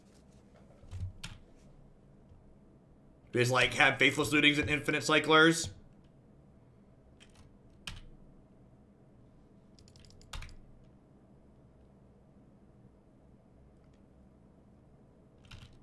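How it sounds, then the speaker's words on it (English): A deck of Magic cards is shuffled once in a brisk riffling burst lasting a couple of seconds, under and between casual talk from players. "Out of my shuffling in the background."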